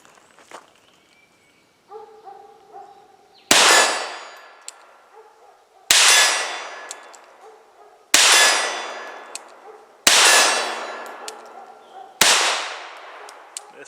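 Five sharp, loud gunshots from a Walther P22 pistol fired at steel targets, evenly spaced about two seconds apart, each with a ringing metallic clang and decaying echo, heard alone without talk.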